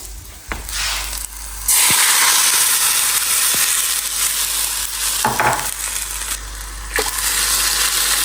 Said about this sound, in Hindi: अब मैं डालूँगी इसमें पानी